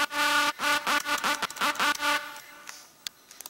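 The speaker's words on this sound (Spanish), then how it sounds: "que se llama LED Drop, que es de las librerías Vandalims" The "LED Drop" synth sample from the Vandalism Shocking Sounds volume 9 library plays as a loud, bright, buzzy synth chord chopped into rhythmic stabs, then fades into sparse faint clicks.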